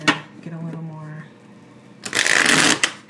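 Tarot cards are riffle-shuffled close by in a quick, crisp burst of fluttering clicks that follows a woman's speech.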